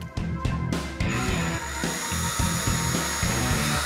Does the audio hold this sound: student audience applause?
no